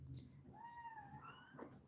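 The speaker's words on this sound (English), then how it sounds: "Well, that was a very weak meow." A young kitten gives a single thin, weak meow, faint and close, rising then trailing off in a soft tonal cry.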